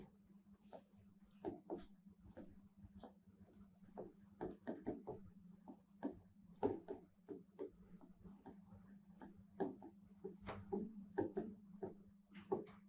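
Chalk or marker writes on a classroom board during a lesson, faint scratchy strokes in irregular bursts over a steady low hum, with no talking.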